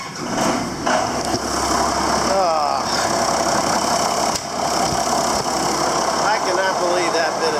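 A cold tractor engine runs at idle, a loud, steady, close rumble with a slight knock and no pause throughout.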